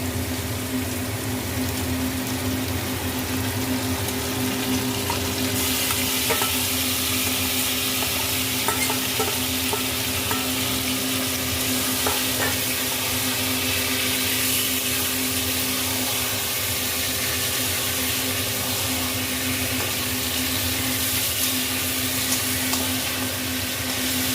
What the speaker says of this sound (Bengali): এবার যে ম্যারিনেট করে রেখেছিলাম চিকেনটা দিয়ে দেবো।